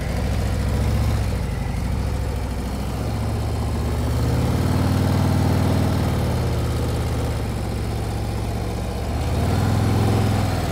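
A motorcycle engine running steadily at low speed during slow-speed riding practice, a continuous close rumble whose pitch rises and falls gently as the revs change.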